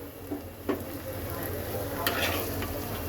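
Cut shrimp frying with softened onion in a pan, a steady close sizzle with a few scrapes and clinks of stirring against the pan, no talk.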